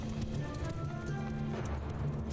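Horse hooves clattering in Mount & Blade II: Bannerlord as horse archers advance, a dense steady rumble of clip-clop beats over a constant battle background hum.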